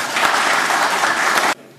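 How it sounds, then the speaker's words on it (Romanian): An audience applauds the mayor at a ceremony, with dense, steady clapping filling the room before it cuts off abruptly. "Vă rugăm să-l aplaudăm pe domnul primar Maria Dauci"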